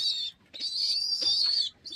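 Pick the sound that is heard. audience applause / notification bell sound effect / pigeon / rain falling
pigeon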